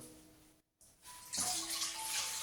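Water splashes into a bowl of salt, yeast and flour for no-knead bread, a brief pour that starts after a short gap and then runs steadily.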